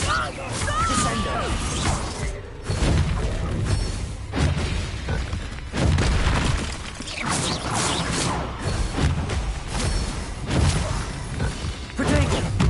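Descendo spell impacts in Hogwarts Legacy combat, repeated crashing thuds and shattering bursts amid busy battle effects, with a voice calling out spells throughout.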